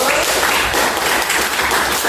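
Classroom students break into loud, dense applause, a close burst of many hands clapping together for about two seconds.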